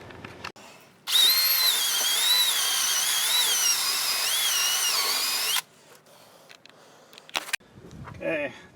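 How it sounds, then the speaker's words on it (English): A power wire wheel grinds steadily for about four seconds while cleaning a car's front wheel hub during a wheel bearing replacement, loud and close, with brief clicks and a short spoken bit afterward. "clean up your hub here with the wire wheel or a wire brush"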